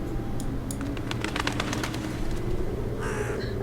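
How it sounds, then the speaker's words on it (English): A bird loudly flapping its wings in the Tiny Bunny video game, heard as a series of soft fluttering beats against a dark ambient drone, followed by a brief harsher rustle near the end. "A nearby bird flapped its wings loudly."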